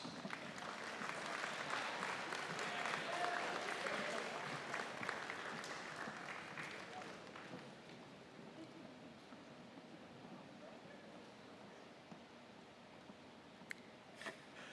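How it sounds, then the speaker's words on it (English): Audience applause at a high school awards ceremony honouring student musicians, a broad crowd clapping that is loudest in the first half, then thins and fades to scattered claps over a quiet room. "One more round of applause for these wonderful musicians."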